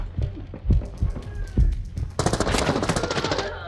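Gunfire in the game Arena Breakout Infinite: a few heavy spaced shots, then a rapid automatic burst rattling on for over a second, close and loud, with a voice briefly under it.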